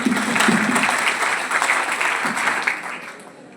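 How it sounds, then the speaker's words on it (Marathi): An audience at an engineering college induction programme breaks into steady, loud clapping that holds for a few seconds before gradually thinning out. "त्यांच्यासाठी जोरदार टाळ्या वाजवायला"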